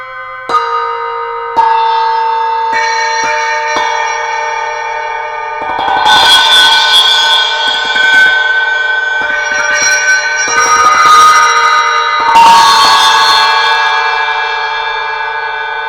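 Cup chimes ring out in bright, sustained metallic tones, struck singly at first, then in rapid shimmering clusters that overlap and slowly decay.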